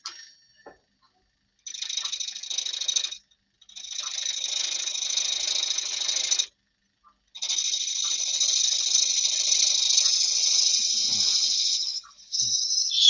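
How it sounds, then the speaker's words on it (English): A spindle gouge makes parting cuts on a wood lathe while turning a birdhouse, giving three sustained bright hissing cuts of a few seconds each, separated by short pauses, close and fairly loud. "Just going to take a couple of parting cuts off with a spindle gouge before we start."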